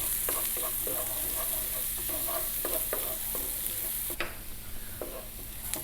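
Steady sizzling in a pan over medium heat with black pepper in the mix, overlaid by repeated scraping stirs in an uneven rhythm, close and continuous throughout.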